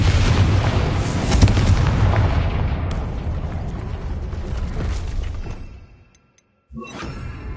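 A Confringo spell explosion in a Hogwarts video game, a loud, deep, roaring blast that rumbles and fades over several seconds, followed by a brief silence and a smaller burst.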